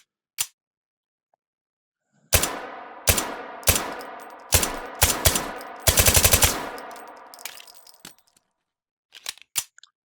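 Suppressed handgun shots from the VR shooter H3VR, fired indoors in narrow spaces and a warehouse: a lone early crack, then a rapid run of sharp, loud reports with reverberant tails, a few trailing shots near the end.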